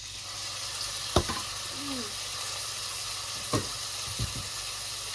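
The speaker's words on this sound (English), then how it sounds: "Listen to that sizzle." Continuous bright sizzling hiss of ragu sauce frying in a hot pan, with a few sharp clinks of a utensil stirring.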